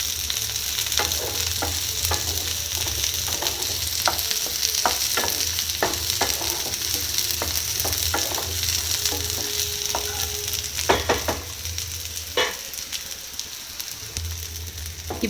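Eggplant stir-fried in hot oil for a Tamil oil-brinjal curry, a steady close sizzle with a low pan rumble and repeated scraping stirs and clinks throughout, no talk.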